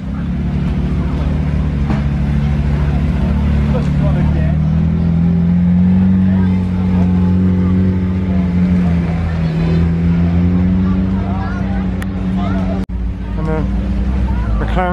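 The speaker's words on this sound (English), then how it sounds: "Some more McLarens leaving, another 675LT Spider" Grey McLaren 675LT Spider leaving a supercar weekend event at Beaulieu, a loud steady engine drone with rising revs as it pulls away, crowd chatter and voices mixed underneath.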